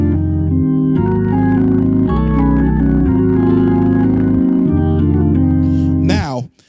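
Sustained organ chords in root position shift upward in steps of a minor third, loud and full with a bass line beneath, ending with a quick rising smear before cutting out.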